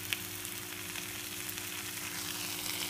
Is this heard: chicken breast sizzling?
yes